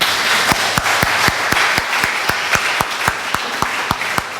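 A church congregation claps in steady unison during worship, sharp hand claps repeating at a regular beat over a bright, diffuse wash of crowd applause, loud and close with no talking.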